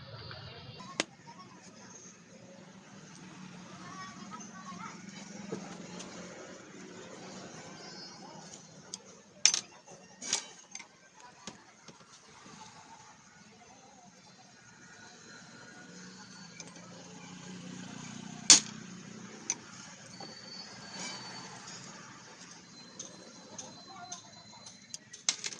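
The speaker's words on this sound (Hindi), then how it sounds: "ये 2 बोल्ट भी हमारे खुलेंगे।" Bolts are loosened on the head of a 1 HP air compressor during repair, giving sparse metallic ticks and occasional ratcheting clicks, faint and close, separated by quiet stretches.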